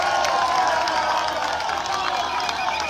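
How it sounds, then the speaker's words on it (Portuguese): A crowd applauds and cheers, steady clapping filling the space for a few seconds, with some voices mixed in. "Uma salva de palmas do presidente."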